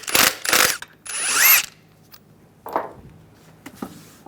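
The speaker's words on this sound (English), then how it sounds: "I'm going to remove the wheel, use a 21mm socket," A power impact tool with a 21mm socket zips lug nuts off the wheel of a Ford Expedition, with several loud, close bursts of whirring and ratcheting followed by lighter clanks of metal being handled.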